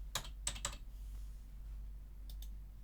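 Quick keystrokes on a computer keyboard entering a search term, a short burst of three crisp clicks followed after a pause by two more, close and fairly quiet over a low steady hum.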